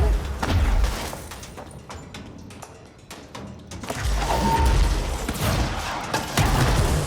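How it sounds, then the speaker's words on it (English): In the video game Control, a big explosion booms amid dense gunfire and heavy thuds, a loud continuous rumble of combat that swells again toward the end. "Holy shit, that explosion was big."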